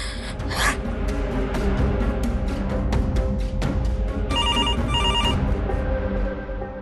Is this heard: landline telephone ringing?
yes